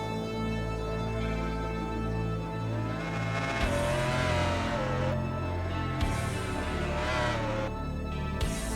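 A Ducati racing motorcycle screams through upshifts in the MotoGP 19 video game, its engine note rising and dropping with each gear change in a continuous, loud race run.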